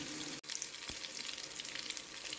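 Fish frying in hot coconut oil in a pan, a steady close crackling sizzle that fills the whole stretch, with one brief dropout and a soft knock near the start.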